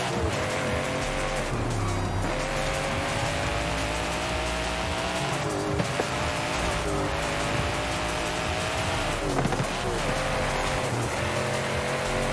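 Car engine revving and shifting through gears in the video game Forza Horizon 5, with tire squeal and skidding on corners, a continuous loud drive lasting over twelve seconds with pitch rising and dropping between shifts.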